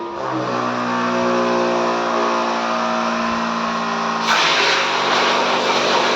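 A portable suitcase sprayer pump with a double motor runs steadily with a loud, even electric whine and hum, then shifts to a rougher, hissier tone partway through, with no talking.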